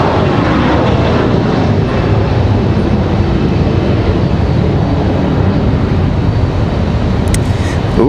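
A Delta Airlines airliner's engines at Raleigh-Durham International Airport give a loud, close, unbroken jet roar across the full stretch, with a brief higher whine near the end.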